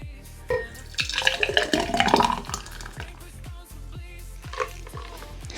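Thick piña colada slushy mocktail pours from a blender, a gloopy, glugging stream with wet drips and a busier splashing burst in the middle, fairly close and quiet.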